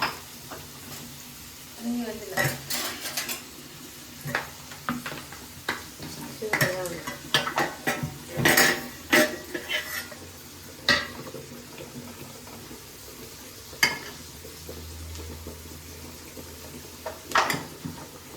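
A spoon scrapes and stirs food in a pan with light sizzling, a home kitchen sauté where rice gruel cooks nearby; intermittent clinks and scrapes come in irregular bursts, close and moderately loud over low background hum.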